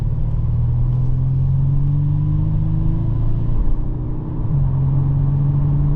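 2023 Audi A5 Sportback engine in dynamic drive mode, heard from inside the cabin. A steady, close engine drone rises slowly in pitch as the car accelerates, with a brief dip near the end, and no talking.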